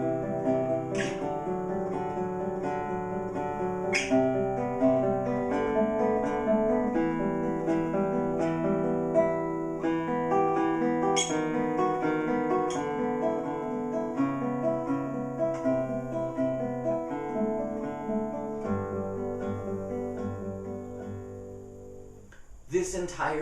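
Solo classical guitar plays a section of a piece, ringing plucked notes and arpeggiated chords at a steady moderate pace, close and clear with no talking, letting the last chord fade.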